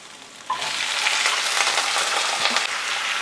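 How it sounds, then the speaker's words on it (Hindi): Potatoes with grated ginger and chili fry in a pan, a loud, close sizzle that bursts up as they hit the hot oil and keeps hissing steadily, with a few light clinks, no talk. "आलू डालने के बाद गैस का फ्लेम मीडियम करके पहले हम 2 मिनट फ्राई कर लेंगे खोल के"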